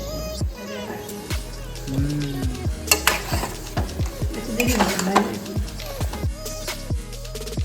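Meat being stir-fried in a pan for a home-cooked festive meal, a spatula scraping and clanking against the metal again and again in a steady rhythm over a low sizzle, close and fairly loud.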